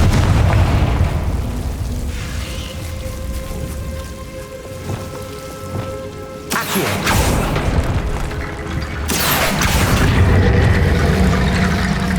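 Confringo spell blasts in the Hogwarts Legacy video game: two loud, sudden explosions several seconds apart over a steady, rain-like background hiss.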